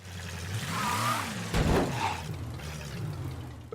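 The Samson Harrier car in Mafia III revs its engine, a low rising-and-falling drone that swells and then settles under a washy noise burst, heard steadily throughout.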